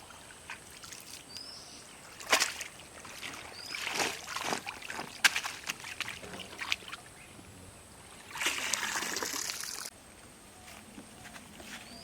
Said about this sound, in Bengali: কুমারটা পুষ্করিণী থেকে ধুয়ে আনবো